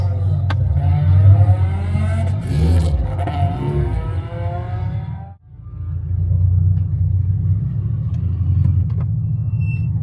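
Mitsubishi Evo all-wheel-drive car on its first lap of a race track, a loud in-cabin engine rumble with rising and falling revs and a brief drop as the driver shifts gear.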